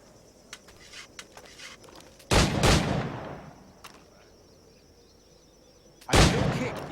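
Two loud, booming firearm shots ring out several seconds apart in Assassin's Creed IV Black Flag, each with a short echoing tail over faint ambient ticks and chirps.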